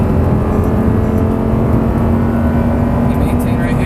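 An Audi R8 accelerates on a driving experience, a loud, close, steady engine drone with strong low rumble, and a person talks over it.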